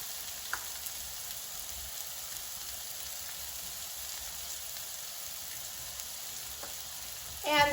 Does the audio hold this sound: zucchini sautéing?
yes